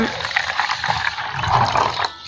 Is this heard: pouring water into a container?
yes